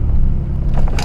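A cold Pontiac 6000 with a 2.8 V6 engine rumbles as it pulls away slowly, a low steady engine drone heard from inside the cabin, with a brief brighter mechanical rush near the end.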